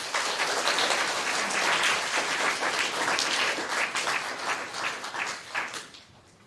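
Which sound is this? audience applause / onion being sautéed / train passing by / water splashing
audience applause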